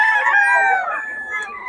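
A rooster crows once, loud and close, its call stretching out and then trailing off at an outdoor market in Bocaue.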